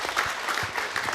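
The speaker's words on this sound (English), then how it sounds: "we can give a round of applause for that" A seminar audience gives a brief burst of applause, with scattered, fairly close hand claps over about a second.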